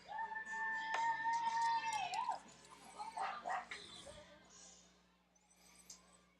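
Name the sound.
dog barking at a softball park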